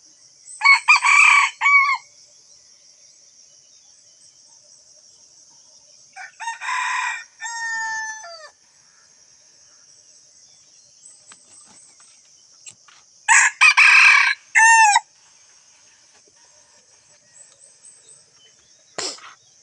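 Roosters crow loudly in three separate bursts with long quiet gaps between them, each a drawn-out cock-a-doodle-doo from a farmyard flock of chickens, with a faint steady high hum behind.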